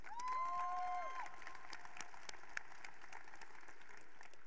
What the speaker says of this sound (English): I want to give one more round of applause to Yasmin and Chris, with whom I'm honored t